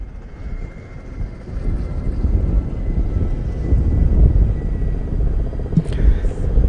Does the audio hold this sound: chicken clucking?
no